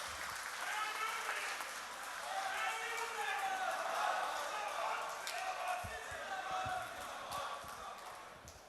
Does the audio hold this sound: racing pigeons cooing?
no